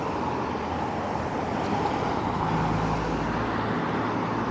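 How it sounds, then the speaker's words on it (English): Steady roar of cars driving past on a busy town road in Connah's Quay, Wales, a continuous close wash of tyre and engine noise with no pauses and no talking. "through all these noisy cars"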